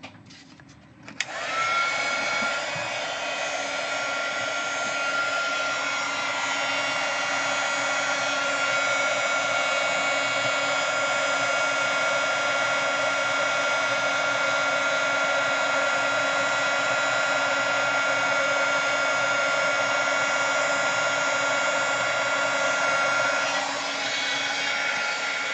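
A heat tool runs steadily and loudly, a continuous blowing whir like a hair dryer, as it heat-sets a chalked craft surface; it switches on after a brief moment and holds for about twenty-three seconds, then stops.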